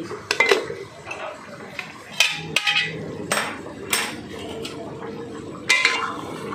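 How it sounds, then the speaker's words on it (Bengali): A metal lid comes off a cooking pot on a gas stove, giving several sharp clanks and clinks of metal on metal, close and distinct, spread unevenly across the moment. "এবারে আমি ঢাকনাটা খুলে নিচ্ছি।"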